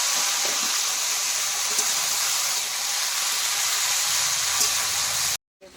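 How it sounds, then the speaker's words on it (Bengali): Jujubes and tomatoes hit hot tempering oil in a pan, giving a loud, steady, hissing sizzle that fills the whole stretch before cutting off abruptly, with no voices. "ফোড়ন গরম হয়ে গেছে, এবার আমি কুলগুলো দিয়ে দেবো, একসঙ্গে টমেটো দিয়ে দেবো।"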